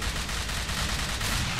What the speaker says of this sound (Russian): уже стрельба там слышна